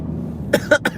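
Four sharp coughs in a row from a nearby person, each a short harsh burst, following a moment of low background rumble.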